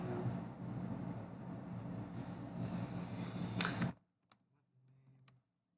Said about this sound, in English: I'm typing. We can type.